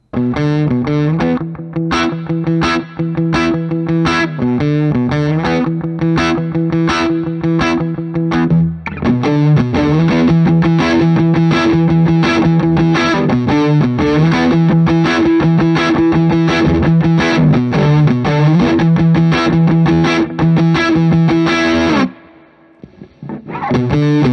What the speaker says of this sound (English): I want to use the Revival Trem now from Origin Effects